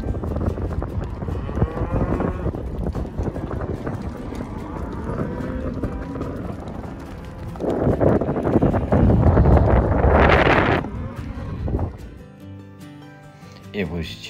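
Cattle low on a cattle drive under strong wind noise. A voice talks over the open-air scene, and a louder moo swells near the end.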